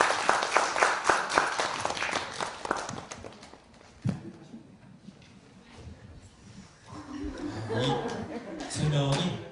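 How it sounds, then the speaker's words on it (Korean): An audience at a youth literature concert claps for three high-school students, a burst of applause at the start that gives way to laughter, movement and people talking. "박수 부탁드립니다."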